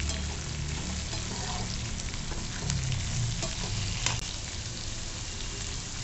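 Chopped onions fry in hot tempering oil for a leftover-rice fried rice, giving a steady close sizzle with a few sharp clinks of stirring.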